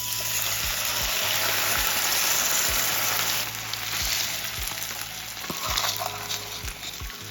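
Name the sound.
rice, beans, vegetables and chorizo frying in a pan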